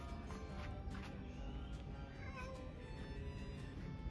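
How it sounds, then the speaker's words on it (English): A cat hisses and growls close by at a Buddhist temple in Ayutthaya, a sustained, harsh sound with no one talking. "Got a little kitty cat. He's hissing at me."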